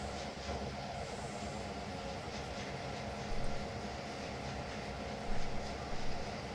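A locomotive running in the Trainz train simulator game, a steady dense rumble of engine and rolling wheels with a couple of brief louder swells, continuous and fairly loud, with no speech.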